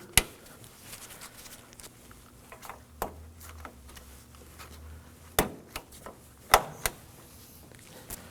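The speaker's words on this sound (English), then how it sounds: "Install the clips, make sure the holes lined up." Plastic clips are pushed into place on a 2014-2020 Acura MDX radiator fan, giving a handful of sharp, close snaps and clicks spread out between quiet gaps.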